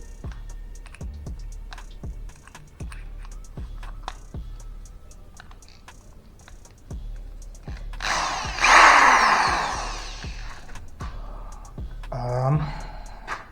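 A corded power drill whirs in a loud burst of a couple of seconds, then briefly again, amid sharp intermittent clicks and taps.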